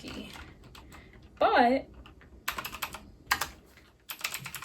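Typing on a Pnk Stuff wireless mechanical keyboard with circular keys and silver key rims produces bursts of close, crisp clacking keystrokes separated by pauses, with a brief spoken word partway through.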